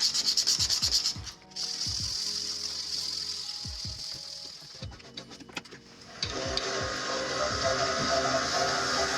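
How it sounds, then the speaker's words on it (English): Steady rubbing and hissing of sandpaper against wood spinning on a lathe while turning a vegetable peeler, with a few brief pauses and a rougher, louder stretch near the end. "Now let me go ahead and do the sanding this direction."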